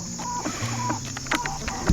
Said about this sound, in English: We got 2 turkeys.